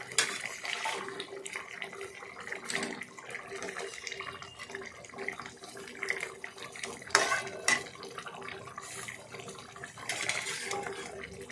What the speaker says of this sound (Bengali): জল দিলাম। জল দেওয়ার পরে তার মধ্যে ভাঙর মাছ ভাজাগুলো দিয়ে দিলাম।